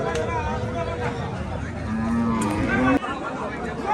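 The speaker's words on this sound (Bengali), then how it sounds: "এখানে দেখতে পাচ্ছেন বিশাল একটা গাভী, মাশাআল্লাহ খুব বিশাল আকৃতির গাভী।" A large dairy cow lows at a crowded cattle market in Keraniganj ahead of the Eid sacrifice festival, its call close and sustained over a steady background hubbub of people talking.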